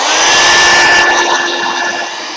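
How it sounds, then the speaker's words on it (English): A heat gun blows steadily and loudly close by while craft color swatches are being made. The continuous airy rush carries a thin whine and eases off slightly toward the end. "Sorry, heat gun."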